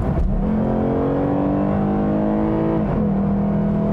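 A 2021 Lexus IS 350 F-Sport AWD with its artificial engine sound switched off accelerates through an automatic gearshift, its engine tone rising steadily, dipping at the shift and climbing again, loud and close with no voices.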